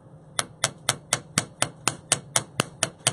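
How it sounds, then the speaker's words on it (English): A hammer strikes 16-gauge metal wire to flatten it, about a dozen sharp, evenly spaced metallic blows at close range with no speech. "Continue hammering until you have everything flattened to your liking."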